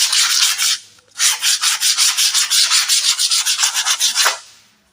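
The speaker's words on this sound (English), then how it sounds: "so they must be sandpapered like this, to the extent that you don't notice the crack that was there." Sandpaper rubbed by hand over a filled crack on a painted wall, a loud close-up series of quick rhythmic scraping strokes, a short burst, a brief pause, then about a dozen more even strokes.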